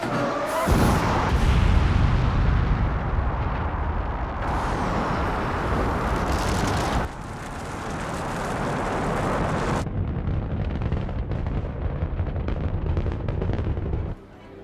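A Gemini-era rocket launch, a massive sustained roaring rumble with crackling bursts that swells, shifts in character partway through and then cuts off abruptly near the end.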